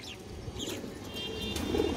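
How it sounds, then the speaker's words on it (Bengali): Pigeons coo softly at a farm, low murmuring calls blending over steady background noise, with a few faint chirps and a thin high tone partway through. "খুবই সুন্দর কবুতর"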